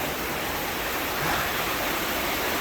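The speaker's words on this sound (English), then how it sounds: "You hear that sound of roaring water?" Roaring water rushes in a constant, loud, broadband wash near an underground escape tunnel, steady and close with no voices over it.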